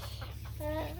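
A backyard hen clucks softly in a short, low burst of a few throaty notes over a steady background hum.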